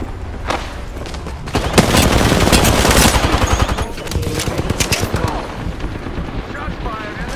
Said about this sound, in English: Shots fired and it hit me